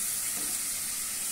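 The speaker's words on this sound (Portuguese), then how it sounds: "Vamos refogar ela." Chopped onion sautéing in a pan with garlic, giving a continuous close sizzle and hiss through a short stretch with no talking.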